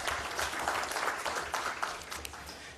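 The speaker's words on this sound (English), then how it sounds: "We can give Professor another round of applause." A crowd at an economic forum on Uganda's public debt gives a professor a round of applause, steady moderate clapping throughout.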